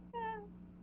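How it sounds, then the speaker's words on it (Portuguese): A single cat meow with clear rising-then-falling harmonics, short and fairly close, over a steady low hum. "Gatinho, pô."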